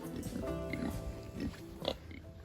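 Kunekune pigs grunt softly in a farm pen, with a few low snorts and grunts under steady background noise and some faint outdoor sounds.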